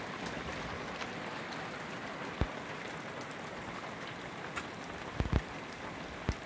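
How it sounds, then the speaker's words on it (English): Spring graupel, soft styrofoam-like hail, falls outdoors in the South San Juan mountains of Pagosa Country. It makes a quiet, steady patter like light rain, with a few sharper ticks of pellets striking nearby. "This is what we call grauple. It's not even hail. It's like styrofoam balls."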